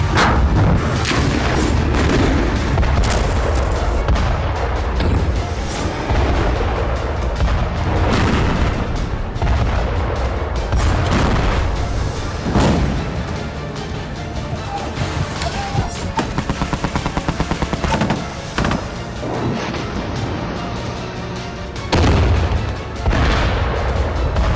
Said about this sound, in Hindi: गाजा जल रहा, इजरायल लगातार बम बरसा रहा।